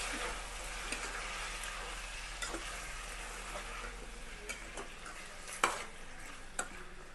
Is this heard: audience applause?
no